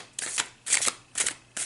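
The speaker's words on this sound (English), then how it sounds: "Let me get a good shuffle in." Velvety tarot cards being shuffled by hand, four quick riffling bursts in an even rhythm with short pauses between, close and crisp, no talking.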